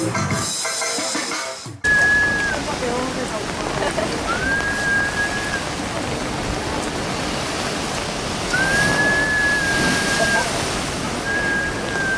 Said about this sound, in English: Oh, well, look at that big waves.